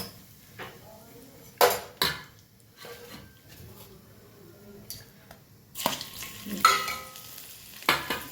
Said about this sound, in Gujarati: એના માટે મેં તમે થોડી જેટલું તેલ લીધું, એમાં આપણે જીરું એડ કરીશું. જીરું થઈ ગયું છે આપણું. એડ કરીશું હિંગ